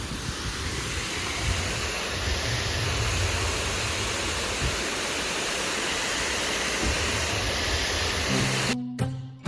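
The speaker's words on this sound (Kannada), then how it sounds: "ಸೊ ಮಸ್ತ್ ಒಂದು ಫಾಲ್ಸ್ ಸಿಕ್ಕೈತಿ ಇಲ್ಲಿ ರೋಡ್ದಾಗ" A roadside waterfall on the route from Sringeri to Horanadu gives a loud, steady, broadband rush of falling water for most of the stretch, then cuts off abruptly into a brief different sound at the very end.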